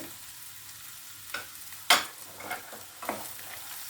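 Cashews frying in a pan for an egg do-pyaza, a low steady sizzle broken by several short scraping stirs, one sharper clack near the middle, heard close and alone.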